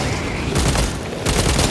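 Frag grenade blasts in the video game Warhammer 40k Space Marine 2, two loud bursts of explosive noise in quick succession over dense combat sound, each a sudden broadband crack.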